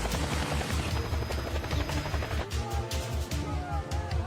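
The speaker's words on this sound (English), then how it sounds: "As a chopper races into the area" A helicopter's rotor thumps in a steady, fast, close beat as it races in over a combat area, with loud ambient noise around it.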